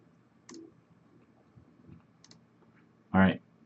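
Single sharp computer mouse click on a server configuration screen, fairly close and distinct, following a couple of fainter ticks amid low room noise.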